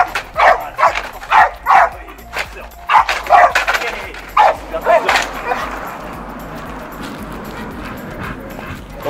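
A dog in attack training gives a series of sharp, loud barks in quick bursts, then quieter whimpering and yips as a handler talks nearby.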